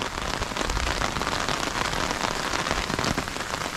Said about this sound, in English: when it rains alright, everything just gets washed away